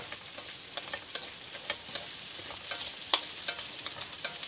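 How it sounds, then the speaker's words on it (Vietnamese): Ingredients for a spicy braised fish dish stir-fried in a hot pan, a steady sizzle broken by repeated scraping strokes of the spatula at an irregular rhythm, close and fairly loud, with no talking. "Mình xào cho nó vừa chín rồi mình cho cá vào tiếp nhá"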